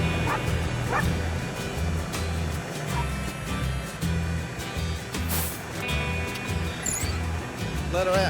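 A little dog sitting in a ute yaps and whimpers in short, high bursts against a constant loud rumble of a nearby idling truck engine.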